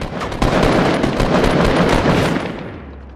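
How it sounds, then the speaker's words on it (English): Loud, continuous burst of gunfire in Fortnite Battle Royale, rapid shots running together for about two and a half seconds before fading, with no talk. "he hit me with a sniper rifle"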